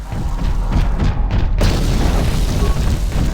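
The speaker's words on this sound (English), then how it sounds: "Let's just start throwing grenades, I think." Grenades explode in Knights of the Old Republic, a loud, deep boom followed by rumbling, crackling debris that lingers over the rest of the moment.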